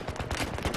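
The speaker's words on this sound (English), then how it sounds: "There was definitely gunfire coming from behind me." Automatic gunfire from the video game Battlefield 3 on Xbox 360: a short, dense burst of rapid, loud shots crackling in quick succession.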